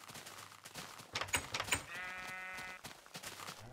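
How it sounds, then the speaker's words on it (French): Sheep bleating in the video game Minecraft, a few short bleats mixed with game noise and a longer tonal sound in the middle, fairly close and moderately loud. "les moutons sont dans la bergerie"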